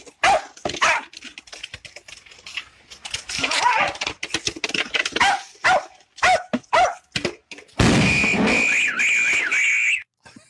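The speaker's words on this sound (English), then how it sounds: "A little doggy playing with a bottle." A small dog playing with a bottle, with a burst of sharp barks and rattling, crinkling clatter, close and intermittent, ending in a brief high whine.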